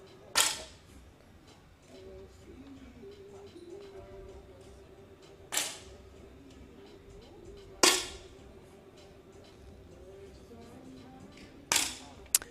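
Sharp 10m air rifle shots crack out four times at irregular intervals during a mixed prone SH2 shooting final at the Munich 2022 World Cup, each a crisp transient over a quiet hall with a low steady hum.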